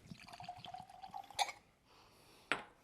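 Nikka From The Barrel blended whisky trickles from a small-necked bottle into a glass in a thin, uneven stream, followed by two sharp glassy clinks, all quiet and close.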